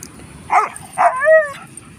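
A greyhound close by gives two short yelping barks, then a rising, wavering whimper, excited after spotting another dog; no talk over it.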